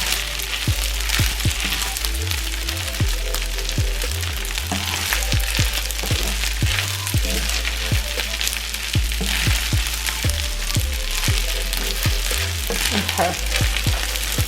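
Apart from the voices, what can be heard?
shrimp frying in a hot iron pan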